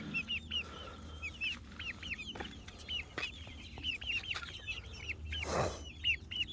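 Skittish young chicken pullets clucking softly as they investigate kitchen scraps, a quiet flurry of repeated short clucks from several birds nearby, with a brief rustle partway through.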